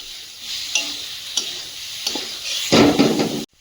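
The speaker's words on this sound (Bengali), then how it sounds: "সামান্য জল দিয়ে মশলাটা কষিয়ে নেব" Ground spice masala of coriander, cumin, salt and Kashmiri chilli frying in a pan with a splash of water, a steady close sizzle broken by stirring scrapes, then a louder hiss near the end.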